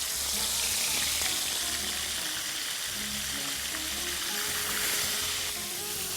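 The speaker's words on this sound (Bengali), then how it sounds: "আমাদের তেল যথেষ্ট গরম হয়েছে, এখন আমরা এর মধ্যে কলিজাগুলি দিব" Pieces of liver sizzling in hot oil in a pan, a steady crackling hiss close by that keeps going without a break and has no talk over it.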